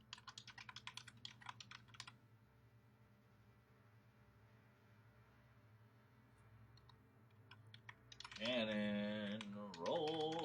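Rapid keystrokes clatter on a computer keyboard in a quick burst that stops after two seconds, followed by a quiet hum. A few scattered clicks come later, then a loud voice breaks in near the end.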